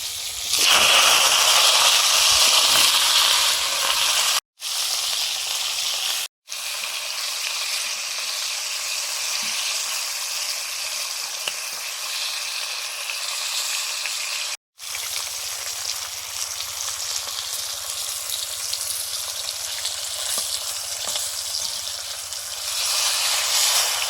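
Flat beans hiss and sizzle loudly in hot oil with nigella seeds and dried chilli, a dense continuous frying crackle broken by a few abrupt short gaps.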